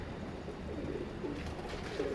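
Soft, continuous cooing from breeder pigeons kept on a rooftop, faint and layered over a steady background hum.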